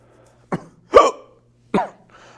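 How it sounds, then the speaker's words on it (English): Three abrupt hiccups from a man on a professional wrestling talk show, each a short sharp vocal jolt spaced irregularly over about two seconds, close and fairly loud against a faint steady hum. "Hiccups on the show."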